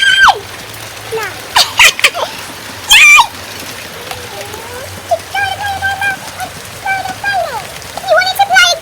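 Steady rain hisses evenly in the background while excited family voices talk and exclaim over it, with brief louder bursts of speech and laughter.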